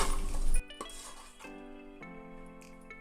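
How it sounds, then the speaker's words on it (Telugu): Tomato pieces are mixed into vegetables in oil for a moong dal dalcha, with a burst of stirring and scraping in a pan, then a few clinks from the spoon over a steady sizzle, close by. "తర్వాత లాస్ట్కి టమాటా ముక్కలు వేసుకోవాలి కూరగాయలలో. వేసుకొని కలుపుకోవాలి."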